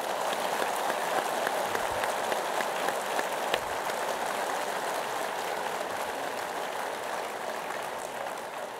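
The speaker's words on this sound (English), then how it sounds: "Let's have a round of applause." A keynote audience at the PLMConx 2015 conference gives a round of applause: an even, continuous wash of many hands clapping with no talking.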